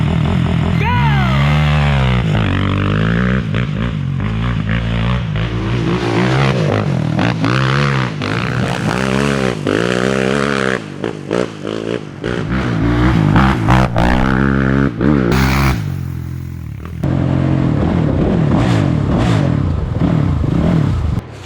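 A Kawasaki quad engine revs hard, its pitch climbing and falling repeatedly as the ATV rides off. The sound is loud and close, with short breaks and a few voices in between.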